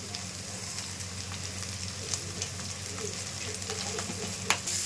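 Garlic and chili powder sizzling steadily in hot oil in a pan, a close continuous frying crackle with occasional light stirring clicks and no voices.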